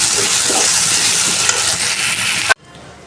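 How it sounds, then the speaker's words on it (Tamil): Ginger-garlic paste and onion sautéing in a pan, a loud, close, continuous sizzle with stirring scrapes that cuts off abruptly near the end, leaving faint hiss. "இஞ்சி பூண்டு பேஸ்ட்டும் வெங்காயமும் நல்லா வதங்கிடுச்சு"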